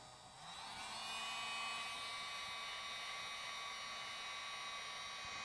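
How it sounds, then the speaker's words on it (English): A hair dryer switches on and blows a steady, whining stream of hot air onto an iPhone 6 screen, holding an even, moderately quiet drone without any talking. "I'm going to use a hair dryer or a hot air gun and give it a little blast of hot air"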